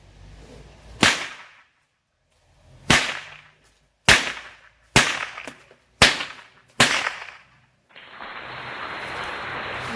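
A series of six loud, sharp cowboy whip cracks at irregular intervals, close and punchy, followed by a burst of steady hissing noise.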